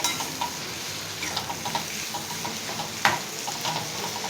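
Ambadi bhaji, a leafy green dish with turmeric, peanuts and peas, being stirred and frying in a pan, giving a steady close sizzle with occasional spoon scrapes and clinks.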